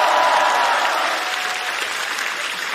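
A stand-up comedy audience breaks into warm, sustained applause, a dense, even patter of many hands clapping that holds steady and eases slightly toward the end.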